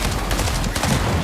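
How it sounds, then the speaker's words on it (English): Rapid gunfire bursts from a mythic hand cannon in a Fortnite match, dense and loud, with repeated close shots layered over constant in-game action. "Has the mythic hand cannon from that Rift Island."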